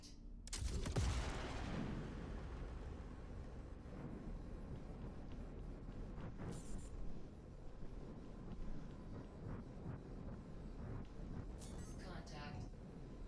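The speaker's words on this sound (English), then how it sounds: "We're going to go ahead and fire a couple missiles at these guys." Missiles launching from a ship in the space game Star Citizen, opening with a loud whooshing blast that fades into a sustained engine rumble, with a few faint later bursts and a voice talking over it.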